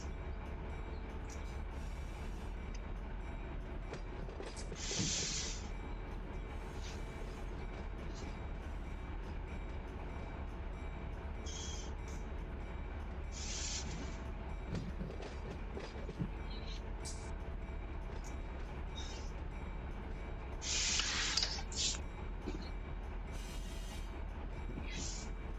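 Freight train in the Run8 train simulator game, rolling at low speed with a steady low rumble, occasional high wheel squeals and clicks, distant voices faintly under it.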